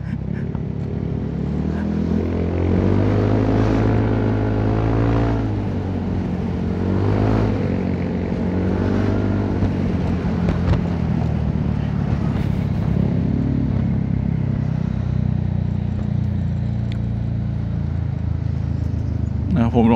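Honda Forza 350 scooter fitted with an aftermarket exhaust pipe, its engine droning steadily throughout on the road with a low rumbling tone and shifting pitch, while someone talks over it.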